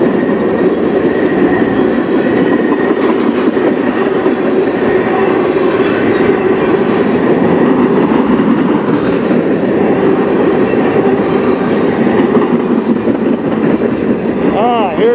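A CN freight train's hopper cars roll past up close, giving a loud continuous rumble and rhythmic clatter of wheels over rail joints, with a faint squeal near the end.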